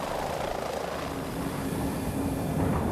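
A helicopter flying over polar shipping lanes, a continuous broad rotor and engine roar that holds steady and swells slightly toward the end, no talk.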